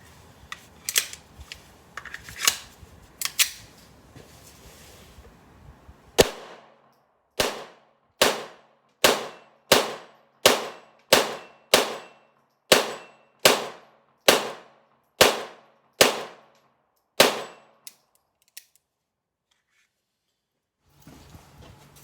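Beretta 92FS .22 rimfire pistol fired at targets at an outdoor range, a string of sharp, evenly spaced reports after a few quieter scattered shots, then silence; no talking.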